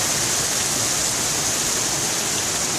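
Heavy pouring rain during a Toronto hailstorm forms a dense, unbroken hiss, loud and steady from start to finish, with no voices.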